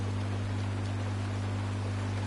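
Steady, soft hiss of rain in the video game Honkai Star Rail, an even wash of noise over a constant low hum.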